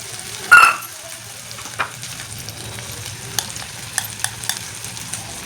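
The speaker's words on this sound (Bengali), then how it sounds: "এবার আমি মশলাটা ভালো করে কষাবো। এবার দিয়ে দিচ্ছি টমেটো কুচি।" Ground masala and chopped tomato fry in a hot pan for a chitol fish curry, opening with a sharp burst of sizzling, then settling into a soft steady crackle broken by brief scrapes of stirring.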